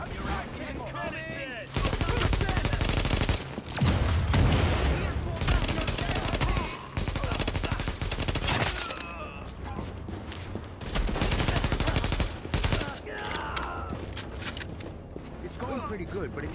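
Dense bursts of automatic gunfire rattle through a firefight in Tom Clancy's The Division on hard difficulty, loud and sustained across several long volleys with brief gaps, while voices speak throughout.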